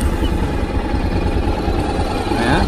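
Honda X-ADV motorcycle engine idling in neutral, with a steady, loud, close rumble and exhaust burble and a faint voice underneath.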